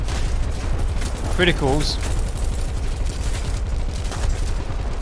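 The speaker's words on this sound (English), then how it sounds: "I'm overheating the guns." Rapid bursts of tank gunfire from War Thunder rattle continuously and loudly, with a person talking briefly over the shooting.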